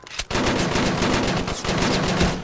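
Rapid automatic gunfire from the video game Crisis VRigade 2 rattles out in a dense, loud, continuous burst of sharp shots close up.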